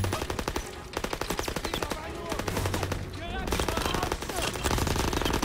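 Rapid machine-gun fire from a weapon in Call of Duty WWII on PS5, during a burning-train mission, rattles almost continuously in loud bursts, with game sound and music layered underneath.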